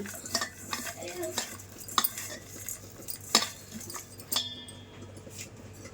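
A spoon stirs mushroom marinade with food colour, salt, chilli and garam masala in a bowl, giving repeated close clinks and scrapes against the dish in an irregular rhythm.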